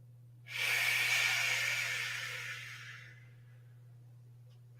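One slow, deep breath, airy and close, swells and fades over about three seconds against a steady low hum in a quiet pilates relaxation session.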